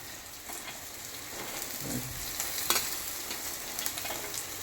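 Soft sizzling and crackling of carrots and beans sautéing in a pan, with occasional stirring scrapes and a louder clatter midway; no voices.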